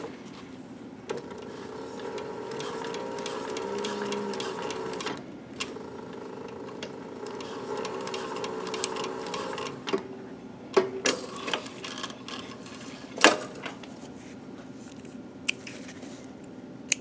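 A sewing machine runs a back stitch on a fabric cap in short bursts of quick, even ticking, stopping and starting, with a few sharper clicks and clunks near the end.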